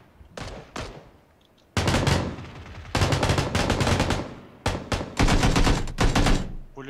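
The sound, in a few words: machine gun fire in a video game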